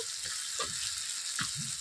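Rohu fish heads frying in hot oil in a wok, a soft sizzle with a few brief louder spits and crackles, fairly quiet and without voices.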